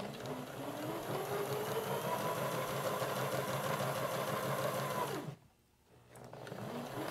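Sewing machine stitching a long seam along the presser foot edge, a steady close whirring hum that runs evenly before stopping abruptly near the end and briefly starting again.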